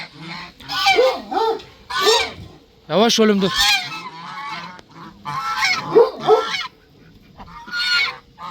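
Several geese honk loudly and repeatedly up close, harsh overlapping calls in bursts, with a brief spoken remark among them.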